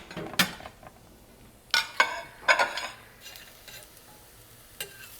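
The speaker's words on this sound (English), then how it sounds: "You're using metal to scrape your saucepan" A metal utensil scraping and stirring a saucepan of frying food, a few short sharp scrapes spaced apart, the loudest around the middle, with faint sizzling underneath.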